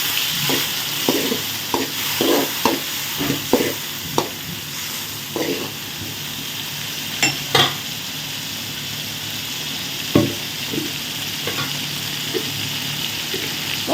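Tomatoes and onions frying in a pan with a steady sizzle, interrupted by repeated sharp scrapes and knocks of a stirring spoon at an irregular rhythm, close by and with no talk.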